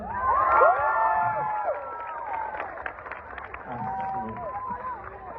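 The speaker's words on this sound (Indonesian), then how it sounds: "Di sini udah ada yang kenal aku, boleh minta tepuk tangannya?" A lively crowd cheers and shouts with whoops and high voices, a bit of clapping mixed in, loud at first and easing off slightly.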